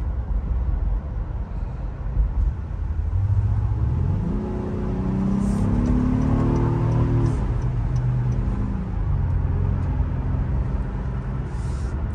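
A 2022 Honda TrailSport SUV drives in normal mode, a loud close engine hum that rises in pitch as it accelerates, holds, then settles back, with light ticking over the steady road rumble.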